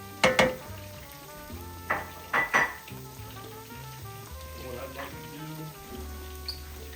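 A whole small red onion and about a cup of chopped mushrooms fry in a pan, giving a steady soft sizzle broken by a few sharper stirring clatters near the start, with a voice talking over it.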